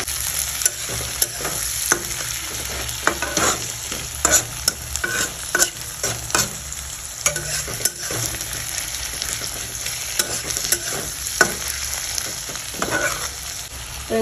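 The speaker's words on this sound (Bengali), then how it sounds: "পেঁয়াজটা এখনো ভাজা ভাজা হোক" Onions frying in a pan while leg-piece chicken is cooked, a long steady sizzle with frequent irregular scrapes and taps of a spatula stirring, close and busy throughout, no speech.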